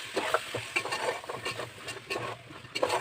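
Carrots and beans stirred in a hot pot for vegetable biryani, with repeated close scraping strokes over a soft sizzle that continues throughout, no voices.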